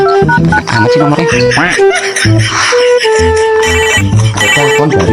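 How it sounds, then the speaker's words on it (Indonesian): An incoming call's ringtone plays loudly and continuously as a bright, looping electronic melody with a steady beat, filling the whole stretch. "Ada telepon dari Boy anak tuyul."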